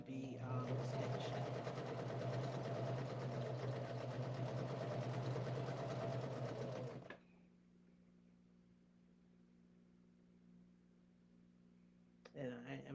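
A sewing machine stitches quilt pieces in one continuous steady whir for about seven seconds, then stops, leaving a low hum before a brief restart at the end.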